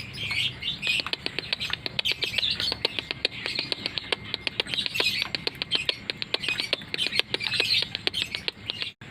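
Lovebirds chirp in a rapid, continuous series of sharp, high tweets and squawks as the male approaches the female, the calls close and lively throughout.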